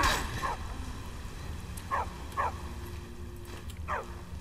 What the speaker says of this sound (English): Barbus barked enthusiastically.